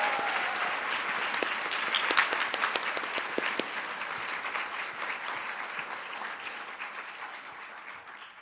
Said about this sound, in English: Please join us in another round of applause for our panels.